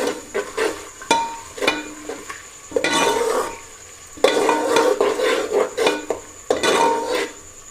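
Metal utensil scraping and stirring garlic, green chili and ginger paste in a pot for beef haleem, with a soft sizzle of frying underneath, irregular bursts of clinking and scraping, close by, no talk.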